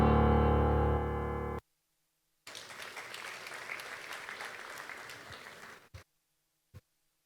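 Audience applause at the launch event of the Nigerian Upstream Petroleum Regulatory Commission's production initiative, a steady crowd clapping for about three seconds after a loud electronic tone, then stopping, followed by a couple of brief thumps.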